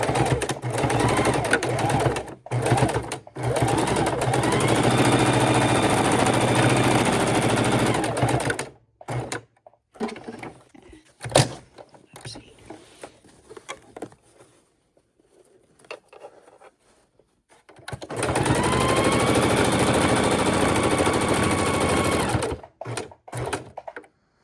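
A sewing machine stitching fabric for a tote bag runs in steady bursts of rapid stitching, pausing for quieter handling noises in between before whirring again.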